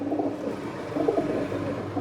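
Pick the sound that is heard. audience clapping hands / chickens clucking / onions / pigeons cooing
pigeons cooing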